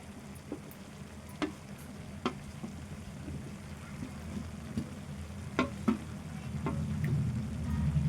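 Chopped tomatoes hitting a hot pan for a Telangana-style cabbage egg curry, a steady quiet sizzle and fry with scattered ticks and pops, growing slightly louder toward the end.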